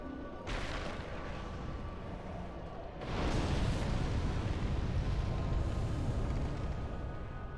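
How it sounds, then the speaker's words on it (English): Explosion in the video game Dark Souls: a broad, sustained roaring blast that swells louder midway and keeps rumbling steadily to the end, with no talk over it. "Now this explosion can't hit us anymore."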